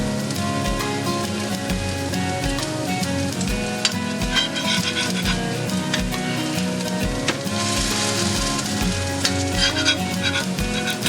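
Squash fritters fry in a pan of oil, a loud, steady, crackling sizzle with popping spatters and occasional stirring sounds, close up with no talk.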